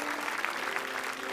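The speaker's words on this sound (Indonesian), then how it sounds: "tepuk tangan." A studio audience at the Indonesia Lawak Klub comedy talk show applauds, a dense and steady wash of clapping that carries through the whole short stretch with no talk over it.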